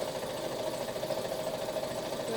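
A domestic sewing machine free-motion quilting loosely around appliqué leaves through polyester wadding, running at a steady continuous hum and rapid needle rattle, close and loud with no pauses.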